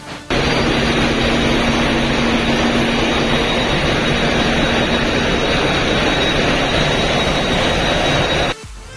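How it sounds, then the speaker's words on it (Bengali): Inside a passenger vessel's engine room, an engine roars in a loud, constant drone with a steady hum and high whine that cuts off abruptly near the end. "আর এই হচ্ছে ইঞ্জিন রুম, আপনাদেরকে একটু ইঞ্জিনের আওয়াজ শোনাই।"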